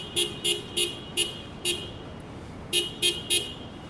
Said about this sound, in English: who's honking like crazy, clanging and banging on the horn